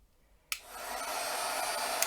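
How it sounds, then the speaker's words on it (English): After a brief quiet moment, a heat gun switches on and blows a steady, close, whooshing roar of hot air that holds for the rest of the clip. "The heat gun's down here."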